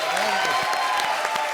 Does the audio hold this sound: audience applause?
yes